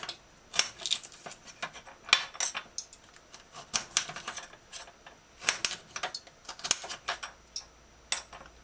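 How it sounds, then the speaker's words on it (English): A knife cuts carrot into sticks on a cutting board, giving sharp, irregular clicks and taps in quick bursts, fairly close and alone with no talk. "Cut the carrot in half, cut that half piece in half, and then cut carrot sticks"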